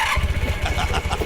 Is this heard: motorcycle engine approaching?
yes